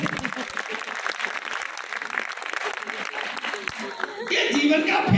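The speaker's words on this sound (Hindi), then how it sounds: "एक बार जोरदार तालियां बजाइए" An audience at a live comedy show in Karnal applauds loudly, the clapping mixed with ongoing talk and swelling into a fuller, louder burst near the end.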